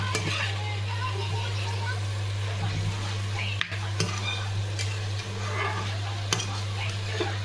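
Food being stirred in a cooking pan as it cooks: scraping and stirring sounds run through the whole stretch over a steady low hum, with a few sharper clinks.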